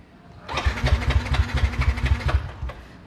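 A scooter engine cranks with a rapid, even chugging pulse for a few seconds, never catching, then stops.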